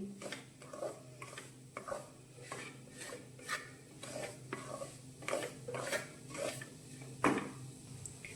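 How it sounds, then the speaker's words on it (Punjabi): Gram flour (besan) is stirred and roasted in a pan over a gas flame, producing repeated rhythmic scraping strokes of a spoon against the pan with a faint sizzle underneath. "ਇਸ ਕਰਕੇ ਇਹਨੂੰ ਲਗਾਤਾਰ ਇਦਾਂ ਹਿਲਾਉਂਦੇ ਹੋਏ ਆਪਾਂ ਬੇਸਨ ਨੂੰ ਭੁੰਨਣਾ"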